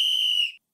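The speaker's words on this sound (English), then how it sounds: "now we just have whistles" A single sharp, high whistle blast from the red light, green light game in a Squid Game parody, loud and close, lasting about half a second before cutting off.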